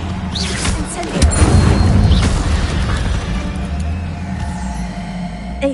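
Incendio fire spell cast in Hogwarts Legacy on PS5, a deep booming burst followed by crackling, rumbling fire and impacts, loud and close, fading over several seconds.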